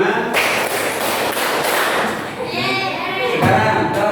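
A school class claps hands together in a counted rhythm, dense overlapping claps forming a loud continuous patter, with children's voices mixed in.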